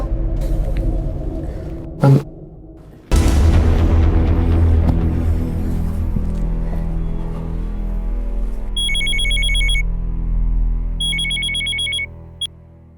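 An electronic phone ring trills in two short bursts near the end, after a dramatic musical swell and low rumbling tones.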